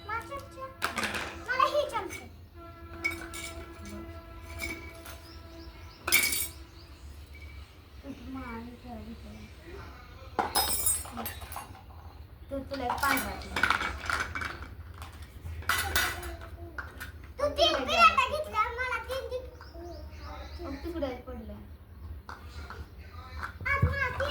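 Children play with toy dishes and spoons, giving scattered light metallic clinks and clatters under frequent child chatter, close by.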